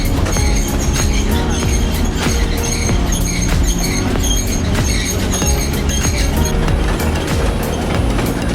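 A hill-station train is heard from inside a carriage, a loud steady rumble with rhythmic clicking of wheels and metallic squeaks running unbroken throughout.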